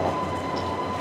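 A train rumbles past on a Kyoto street as a steady, close, continuous roar with a low hum and a faint steady tone, with no voices over it.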